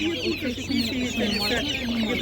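Chickens cluck and chatter in cages at a village market, a busy run of short calls close by, with people talking faintly nearby.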